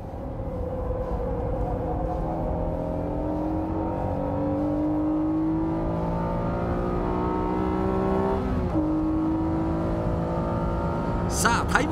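A Honda NSX Type S lapping a race track, holding third gear through the final corner, with a loud sustained engine note that climbs steadily, dips briefly at a shift, then rises again.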